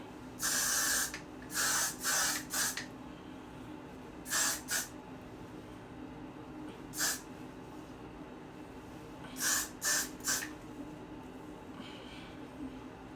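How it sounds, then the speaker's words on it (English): Short hissing bursts of hair spray, about a dozen quick sprays in clusters with pauses, close by and fairly quiet. "I'm gonna spray it a little bit"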